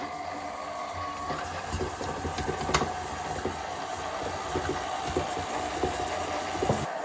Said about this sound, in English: we'll get this spinning in the mixer and cream the butter and sugar together